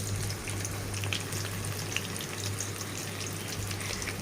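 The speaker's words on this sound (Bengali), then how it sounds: "তেল দিয়ে বেশ কিছুক্ষণ এভাবে কড়াইটা গরম করে নেবেন" Oil crackles and sizzles softly as it heats in a wok, with a faint steady hum underneath.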